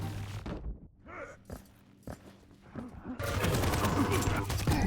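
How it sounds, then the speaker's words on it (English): Rapid machine gun fire and footsteps in the arena shooter Quake Champions, a sustained dense barrage swelling loud in the second half after scattered shots and movement earlier. "There's still more machine gun damage."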